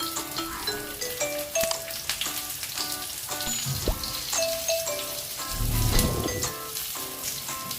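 Chicken tikka and vegetables cooking give a crackling sizzle with sharp pops and spatters, joined by occasional clinks and a swelling rush of hiss midway.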